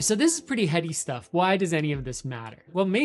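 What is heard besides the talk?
No everyday noises stand out.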